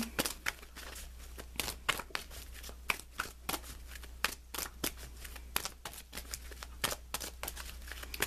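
Tarot guidance cards being shuffled close up, a quick irregular series of crisp riffling snaps and papery flicks over a low steady hum, with no talk.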